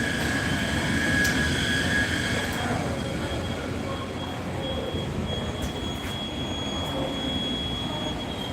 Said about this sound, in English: Approaching the station, please stand away from the Subway system.